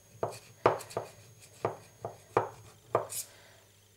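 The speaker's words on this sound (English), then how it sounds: "take a sharp knife and I'm just going to run my knife around the edge of the cutter" A sharp knife cuts cake around a heart-shaped cutter, a series of about nine distinct soft taps and knocks at an uneven pace, close and clear against a quiet background.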